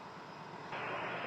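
An Air Canada Rouge airliner at Toronto Pearson airport gives a steady, broadband engine roar from a moderate distance, and the roar brightens and swells partway through.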